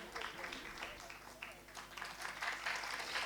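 Audience applause at a youth event on cyber wellness, a steady patter of many hands clapping throughout, moderately distant and continuous without a clear break.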